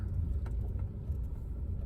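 Car engine laboring up a very steep hill, over 45 degrees, a steady low rumble that holds close and loud without a break.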